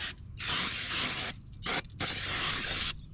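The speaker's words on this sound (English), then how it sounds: "So what I'm gonna do, I'm just gonna clean my oil filter out. Some brake cleaner." Brake cleaner sprayed from an aerosol can onto a Honda Accord 1.5L oil filter during an oil change, several loud close hissing bursts of varying length separated by short pauses, with no talk.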